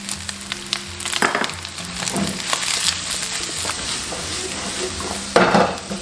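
Gourd hits a hot wok with dried seafood, scallion, ginger and garlic, sizzling steadily while a spatula stirs and scrapes against the metal in irregular bursts, with a louder clatter near the end.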